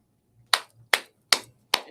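Four sharp hand claps spaced about 0.4 seconds apart, close and crisp, done to switch off a sound-activated clapper light device, with faint low background hum between them.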